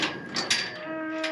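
Cattle on a working ranch moo close by, a long low drawn-out bellow with other cows calling faintly in the background, little else audible.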